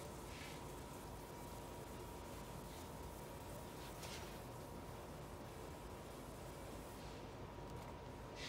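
Wet sanding with 3000 grit sandpaper on a clear-coated speaker enclosure, 2K clear over Krylon paint, a steady soft rubbing hiss that continues without a break and stays fairly faint throughout.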